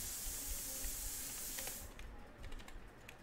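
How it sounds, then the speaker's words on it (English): Light, quick clicks of typing on a computer keyboard: a string of soft taps over faint hiss, growing more distinct in the second half. "So I will type no sound issue"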